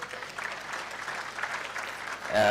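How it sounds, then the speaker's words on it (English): An audience at a college commencement ceremony claps for industry colleagues, a broad and even patter of many hands that runs steadily before a voice begins to speak near the end. "You can clap for my industry colleagues."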